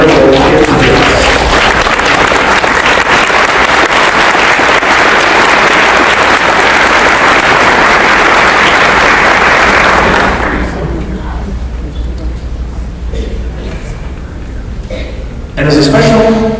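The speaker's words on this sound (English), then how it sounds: "I'd like to ask for our church to start off with applause for all the wonderful kids" A church congregation gives loud, sustained applause for the children, a thick continuous roar of clapping for about ten seconds before it thins and fades into quieter room sound.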